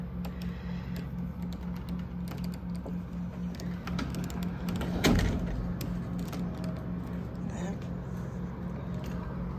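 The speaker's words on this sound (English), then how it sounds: "When I tried to open the door, it came off." A hotel room door in a king pool-view room at the Garland Hotel gives one dull clunk midway as it is pulled open and comes off its hinge, over a steady low room hum, with someone present in the room.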